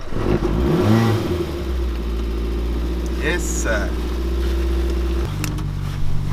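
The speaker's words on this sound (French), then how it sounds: "Faut t'entendre bien le moteur." A Renault 5 Alpine Turbo engine idles in a low, steady drone close by, rising briefly in pitch with a rev and a short higher whine. People talk briefly over it.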